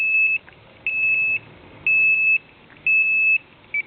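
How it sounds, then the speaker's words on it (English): An MSA Altair 5X multigas detector sounds its alarm during calibration: shrill electronic beeps in repeating bursts, each half-second group of rapid tones separated by short pauses, loud and close with no talking. "We're going to reset those alarms."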